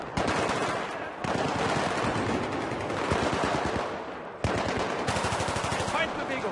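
Automatic gunfire in the video game Battlefield 3 rattles in dense, rapid bursts, loud and close, with brief pauses between volleys and no clear talking.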